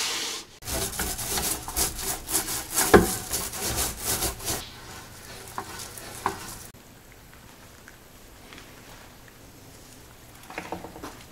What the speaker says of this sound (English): now I'm running this tack cloth across it